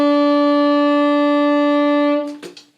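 A single tenor saxophone E is held evenly at strong volume for over two seconds before breaking off into brief clicks and rustles.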